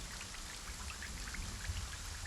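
Steady rain falls in a dense, even hiss of countless drops striking surfaces, constant and close with no pauses or voices.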